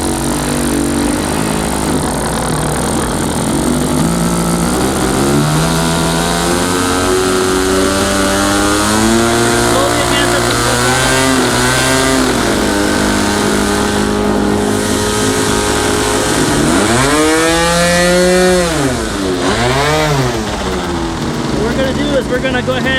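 A small engine with its idle trim set halfway runs loudly and steadily, its pitch rising and falling as it revs, with talk over it.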